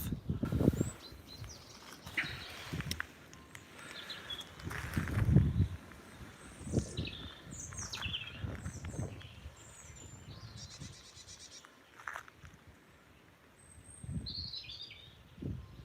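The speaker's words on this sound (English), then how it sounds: "Just see the birds on the feeder there." Small birds chirp and tweet faintly around a garden bird feeder, scattered short calls over a soft outdoor background with occasional low rustles and thumps.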